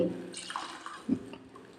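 Boiling water is briefly poured and splashes into a pan, quiet and close, with a soft gurgle near the middle.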